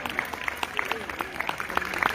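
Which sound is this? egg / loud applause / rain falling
loud applause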